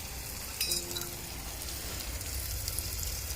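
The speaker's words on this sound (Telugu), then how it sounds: "టమాటాలు అయితే ఫ్రై అయిపోయాయి. Next chicken వేసేస్తున్నాం." Chicken goes into a pan of fried tomatoes in a village-style curry, setting off a loud, continuous sizzle with a brief burst of spitting near the start and a steady crackle after.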